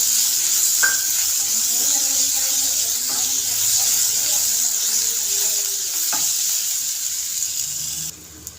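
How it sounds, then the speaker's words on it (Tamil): Onions and crushed garlic sautéing in a pan for an ivy gourd stir-fry, an even, continuous sizzle with a few faint clinks of stirring, tailing off briefly at the end. "இப்போ வெங்காயம் நல்லா வதங்கிருச்சு."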